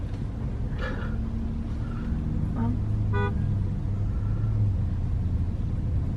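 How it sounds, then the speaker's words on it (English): Several car horns toot in short bursts from passing traffic, sounding over a steady road rumble and engine noise, with a faint voice briefly heard. "Why are people beeping?"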